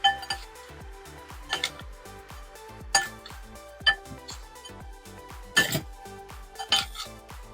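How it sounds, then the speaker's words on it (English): Spinach salad with crisp bits and vegetables being tossed in a bowl, with repeated irregular clinks and knocks of utensils against the bowl, fairly close and moderately loud. "So we're just gonna toss it up and mix it really well."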